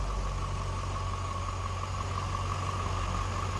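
Close, steady idle of a stock 2003 Chevrolet Corvette 50th Anniversary convertible, a smooth, even low rumble with a constant hum and no speech.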